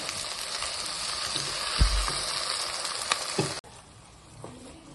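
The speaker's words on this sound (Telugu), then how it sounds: "ఇక టమాటాలు కూడా వేసేస్తున్నాం మొత్తం మంచిగా ఫ్రై చేసుకోవాలండి" Tomatoes frying in a pan for cucumber chutney, a loud continuous sizzle with a couple of stirring knocks, then cutting abruptly to a much quieter hiss for the last second.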